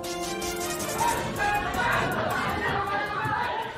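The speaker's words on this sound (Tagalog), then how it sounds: "Dinig na dinig ang sigawan ng mga nagkakagulong PDL sa loob ng maximum security compound sa New Bilibid Prison" Rioting inmates inside the maximum security compound of New Bilibid Prison shout together, a continuous jumble of overlapping raised voices from a crowd, heard at a moderate distance and sustained throughout.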